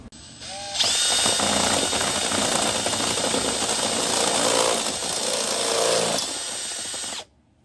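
A power drill bores a hole through the metal roof of a 2020 Ford Ranger FX4 for a roof rack install, with a steady, loud, high-pitched whine lasting several seconds before it abruptly stops.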